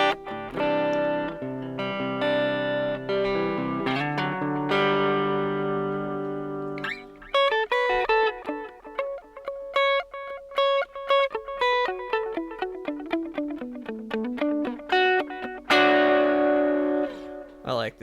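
Clean electric guitar tone through a budget worship pedalboard built around a Zoom 70CDR+ and JOYO American Sound, playing ringing sustained chords and then a run of picked single notes, close and fairly loud.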